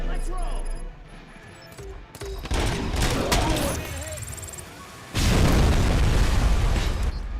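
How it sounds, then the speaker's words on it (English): Booming grenade launcher explosions and gunfire from the video game RoboCop: Rogue City, with several heavy bursts and a loud blast near the end, mixed with game effects while someone talks over them. "Is that a grenade launcher?"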